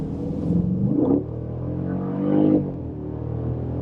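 A 2015 Jeep SRT's pushrod V8 engine revs twice in quick succession, rising and falling close by with a deep rumble between the pulls.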